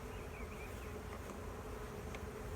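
A dense, steady buzz of many honeybees being shaken into a nucleus hive fills the air continuously, close and loud, with no voices.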